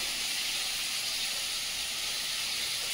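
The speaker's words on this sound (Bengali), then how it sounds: "ট্যাংরা মাছটা লাল লাল করে ভাজতে দারুণ লাগছে।" Tangra fish fries in hot oil with chili powder and turmeric, giving a steady, even sizzling hiss that carries on unbroken at a moderate level.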